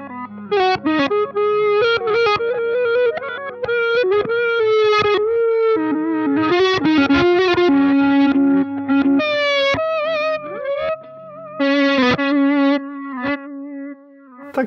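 An electric guitar plays a melodic line through a swelling reverse delay reversing every quarter note, notes fading in and smearing into each other, with steady rhythmic repeats.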